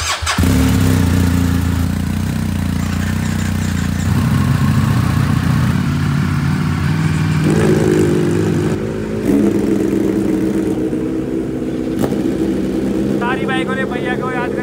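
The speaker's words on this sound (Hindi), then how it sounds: "सारी बाइकों ने भैया को याद करके रोना स्टार्ट कर दिया।" Several motorbikes rev their engines together, a loud, continuous roar with rising and falling throttle swells that carries on throughout, ending with a brief high tonal sound.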